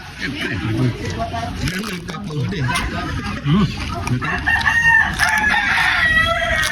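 Chickens cluck and a rooster crows in the background while people talk over them, with steady ambient noise throughout.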